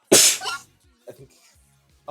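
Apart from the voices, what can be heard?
sneeze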